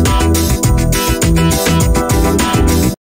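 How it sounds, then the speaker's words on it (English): Cubase music loops play on their own, a dense, steady rhythmic groove of repeating bass and drum patterns that stays loud throughout before cutting off abruptly into silence. "we take some Cubase loops that sound like this."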